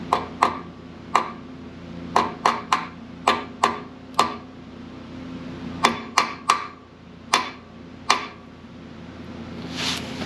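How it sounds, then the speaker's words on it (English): Sharp metallic taps from a body hammer driving a seal into the AOD transmission of a Ford Econoline E150 van, about seventeen distinct strikes in irregular bursts, close and loud over a low steady hum. "I think I can tap it in with my body hammer"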